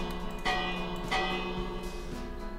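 Modern doorbell built in Minecraft, a few resonant bell-like chimes ringing out at intervals over a soft game ambience, with no speech.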